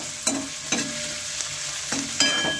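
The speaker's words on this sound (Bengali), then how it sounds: "একটু কষিয়ে নেব এখন।" Dried loitta fish curry with freshly ground spices being fried and stirred in a pan: a steady soft sizzle broken by four sharp scraping strokes of the spoon, close and alone.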